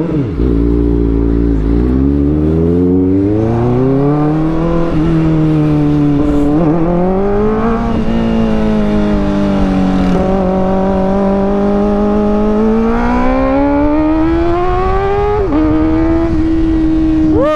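A Kawasaki Ninja ZX-4RR motorcycle on a test ride, its high-revving engine climbing steadily through the gears with brief dips at shifts, loud and close throughout.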